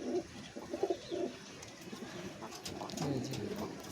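Pigeons kept for breeding coo softly in a few low, rolling phrases nearby, against faint background noise.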